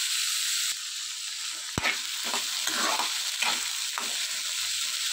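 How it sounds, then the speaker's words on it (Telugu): Chickpeas frying in hot oil and being stirred, a steady close sizzle broken by several sharp scraping stirs of the spoon in the pan. "ఈ ఆయిల్లో ఈ శనగలు 2 మినిట్స్ బాగా వేగనివ్వాలి."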